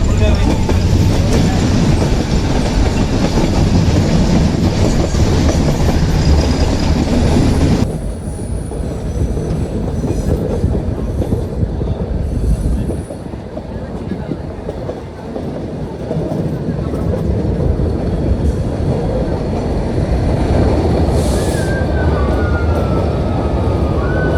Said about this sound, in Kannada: ಇದು ಟಾಯ್ ಟ್ರೈನ್ ಅಲ್ವಾ